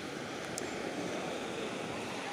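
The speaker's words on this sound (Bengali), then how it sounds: "হালকা ঢেউ একদম।" Gentle sea waves washing onto a sandy beach on a rainy day, a soft continuous wash of surf with light wind noise and no distinct breakers.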